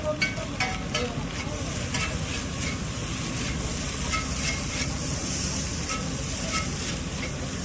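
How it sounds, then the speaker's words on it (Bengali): Chowmein sizzling loudly as it is stir-fried at a street food stall, a continuous hissing fry overlaid with quick metallic clanks of the spatula early on. "কত সুন্দর করে চাউমিন ভাজছে"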